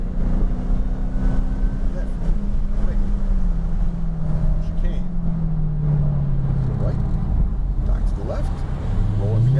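A Dodge Challenger Hellcat Redeye on a track, its engine droning loud and close with a steady tone that climbs sharply at the end as throttle is applied, under wind noise and talk.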